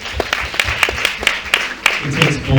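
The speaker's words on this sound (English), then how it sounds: "can we give all of the pictures a round of applause?" Scattered, fairly close hand claps from a small event audience at a Nigerian makeup, hair and skin industry gathering, coming as irregular sharp beats over a couple of seconds with voices in the background.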